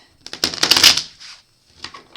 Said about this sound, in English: I'm going to give them a couple more shuffles now